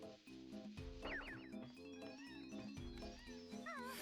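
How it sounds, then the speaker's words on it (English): Cat-like Moggy creatures in the video game Banjo-Tooie meow in several high, wavering calls over a looping background game melody, with faint voices mixed in. "Love these little cat guys."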